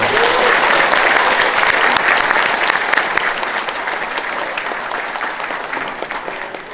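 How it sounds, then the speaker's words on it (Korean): A large audience at the 79th Liberation Day ceremony at the Kim Gu Memorial Hall claps in a thick, loud wash of applause that gradually thins and softens toward the end. "박수 한번 부탁드립니다"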